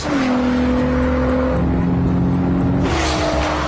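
A Volkswagen Golf's 3.2-litre V6 engine revs loudly and close, its pitch climbing and shifting through gears in a sustained, throaty roar.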